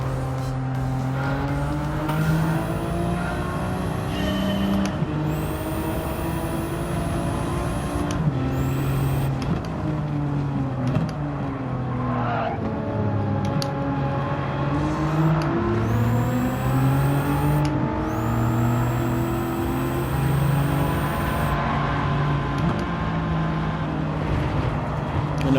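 Upgraded car driving in Gran Turismo 7, its engine holding a steady high-rev drone with rising and falling pitch through gear changes, loud and continuous with no talk.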